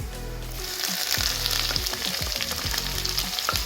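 Peppers tipped onto browned onions frying in a pan for vegetable rice set off a loud, steady sizzle, with repeated low thumps and scraping bursts as the vegetables are stirred through the hot oil.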